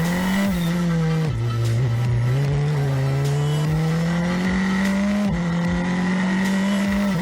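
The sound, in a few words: race cars accelerating at race restart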